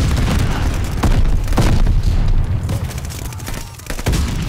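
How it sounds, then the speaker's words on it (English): Loud, dense game-battle din from Call of Duty on PlayStation 5, with heavy low booms and bursts of a grenade explosion amid ongoing gunfire and rumble. "Incoming grenade."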